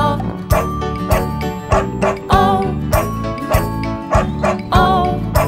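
Dog barks sound effects woven into an upbeat children's nursery song about a farmer's dog, recurring short barks over bouncy music with a steady beat.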